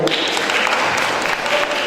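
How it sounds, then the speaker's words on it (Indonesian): An audience at a school quiz competition semifinal claps for a team, a short burst of lively applause that stays fairly loud throughout. "Oke, beri tepuk tangan untuk B."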